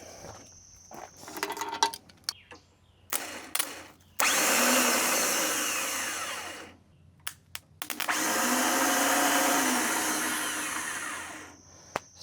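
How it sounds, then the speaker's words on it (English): A starter motor on a diesel compactor rescued from a scrap yard cranks in two long whirring bursts, with clanks and handling noises in the gaps between them and no engine catching. "Starter spins over, but battery's disconnected, by the way."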